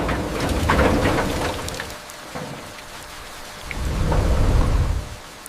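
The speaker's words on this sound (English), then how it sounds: "Rain." Steady rain patters on surfaces in the wild while deep thunder rolls in two swelling waves, rising and fading over the downpour.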